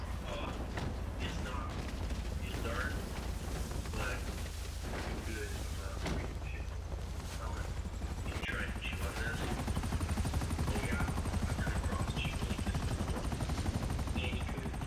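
Helicopter in a GTA roleplay game, a steady rotor drone running throughout at moderate level, overlaid with bursts of game noise and muffled voices talking over it.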